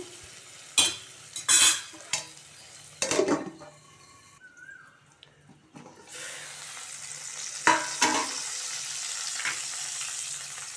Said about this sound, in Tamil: இப்போ நல்லா வதங்கிடுச்சு